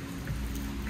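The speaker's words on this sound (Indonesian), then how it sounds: "Ni cuaca dah hujan dekat gerbang Sky-Gro" Rain falls at the Sky-Gro gate in Malaysia during a ride on a Yamaha Y16ZR motorcycle, heard as a brief, even hiss of drops mixed with low rumbling background noise.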